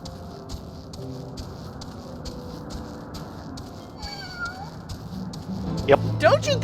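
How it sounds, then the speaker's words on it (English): A cat in the video game Final Fantasy XIV gives a couple of short, rising mews near the end, heard clearly over a steady game soundtrack with light percussive ticks. "Don't you give that plaintive mew at me"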